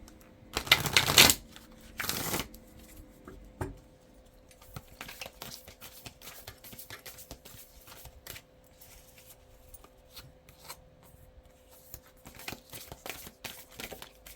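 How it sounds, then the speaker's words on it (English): A new tarot card deck is shuffled nearby, two quick riffling bursts at the start, then softer scattered card flicks and handling noises with no one speaking. "Give it another shuffle."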